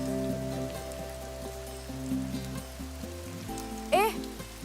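Rain falling in a Bollywood film scene, a soft continuous patter beneath sustained music tones, with a brief rising sweep near the end.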